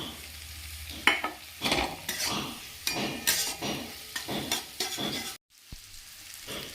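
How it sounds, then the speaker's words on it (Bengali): A spice paste with fried onions is stirred and fried in a pan for a Bengali katla fish dish with spring onions, giving a steady sizzle with repeated scraping strokes of a spoon, loud and close, with a brief silent gap near the end. "এরপরে ভেজে রাখা পেঁয়াজগুলো দিয়ে আর একটু মশলাটা কষিয়ে নেব"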